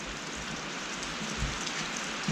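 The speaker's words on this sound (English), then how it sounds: "it's raining again in Kentucky" Steady rain falls outside a garage in Kentucky, a continuous soft hiss with faint patter that holds evenly throughout, with no voices.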